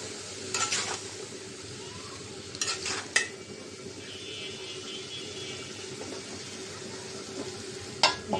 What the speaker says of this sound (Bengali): এখন ভালো করে নাড়াচাড়া দিয়ে ঢাকনা দিয়ে ঢেকে রাখবো।